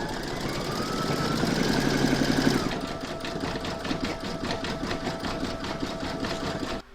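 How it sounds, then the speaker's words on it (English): An embroidery machine stitches a quilting round on an in-the-hoop crazy patch evening bag, a steady rapid mechanical chatter with a louder, busier stretch at first, then an even rhythmic needle patter running alone until it stops. "Next you're going to stitch round number 19, and that's going to do the quilting in this area here"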